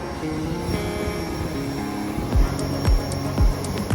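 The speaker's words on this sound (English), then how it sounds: "And here's our E-Jet" Airlink Embraer E-Jet airliner at Johannesburg airport, a steady engine hum and broadband roar filling the scene, with a few low thumps recurring near the end.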